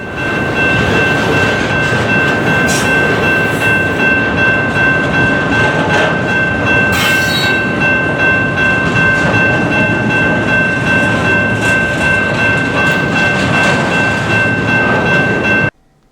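A long Norfolk Southern freight train rumbles steadily past at close range on the Chattanooga Subdivision, a continuous heavy roar with rolling clatter of wheels on rails and a brief brighter squeal midway.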